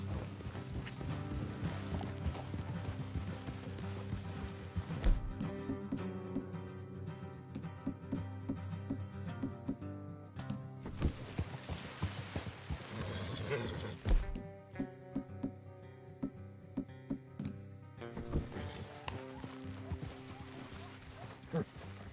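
Horses clip-clop along a trail in Red Dead Redemption 2, their hooves thudding steadily with an occasional whinny, beneath a continuous music score and bursts of game dialogue.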